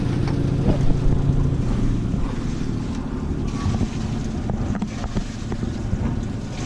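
A Valiant 40 sailboat's engine runs steadily with a low, rumbling drone, mixed with wind buffeting the microphone and splashing water, no voices.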